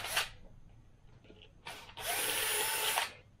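Small 2mm drill reaming holes in plastic parts of a model aircraft fuselage, heard as a brief whir, then a louder sustained grinding burst of about a second, close and alone.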